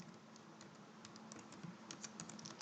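Keys tap quietly and irregularly on a computer keyboard close by, in short bursts of clicks that grow a little busier toward the end.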